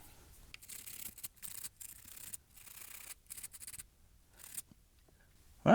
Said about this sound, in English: give this a little bit of a clean up with some IPA and a toothbrush